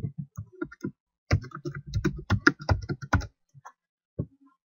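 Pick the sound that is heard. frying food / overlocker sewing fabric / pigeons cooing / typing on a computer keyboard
typing on a computer keyboard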